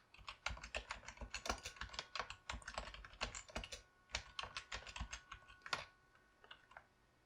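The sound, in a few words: typing text on a computer keyboard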